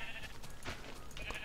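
Sheep in the video game Minecraft bleat in a couple of short, wavering calls over a steady, noisy background, fairly loud and close with no talking.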